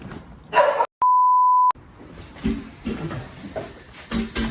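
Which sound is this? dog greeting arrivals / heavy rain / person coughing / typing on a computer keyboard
dog greeting arrivals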